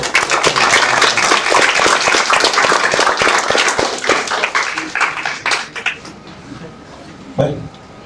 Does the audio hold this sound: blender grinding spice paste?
no